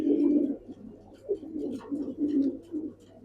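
Silver pigeons coo in repeated low, throaty phrases close by, the rolling calls rising and falling in steady succession with no talk over them.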